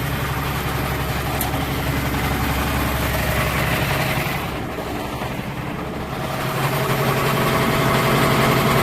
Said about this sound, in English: We'll engage the PTO.